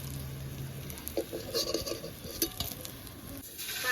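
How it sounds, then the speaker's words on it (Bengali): Rohu fish pieces frying in a pan make soft crackling sizzle with brief clinks and scrapes of a utensil, moderately quiet and steady, with no talk. "বাকি মাছের পিসগুলো ভেজে নিচ্ছি।"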